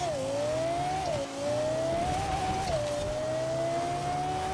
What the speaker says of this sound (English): let's see how it does in a drag race